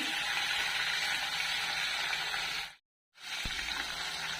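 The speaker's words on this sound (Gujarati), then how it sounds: "થોડી એને આપણે તેલમાં સાતળશું." Ginger, chili and garlic paste sautéing in hot oil gives a steady, bright sizzle that cuts off abruptly for a moment, then resumes with a soft utensil knock.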